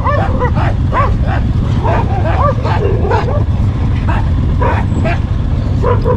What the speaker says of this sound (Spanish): Perritos.